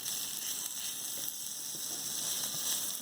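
Garlic and ginger sizzling and frying in a pan, a steady bright hiss with faint crackles and small spits, continuous and close, with no talking.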